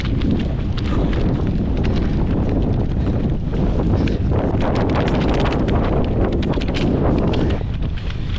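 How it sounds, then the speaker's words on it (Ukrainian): Strong headwind during a half marathon roars steadily into the microphone, a dense continuous buffeting rush with gusty flutters throughout, no voices. "Піднявся дуже сильний е, зустрічний вітер."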